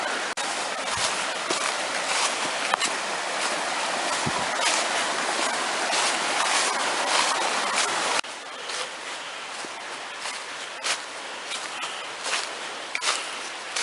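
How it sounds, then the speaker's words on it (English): A creek at a hiking trail crossing rushes in a close, continuous wash of water, with a few sharp splashes or knocks scattered through it. "First creek crossing of many, from what I've read."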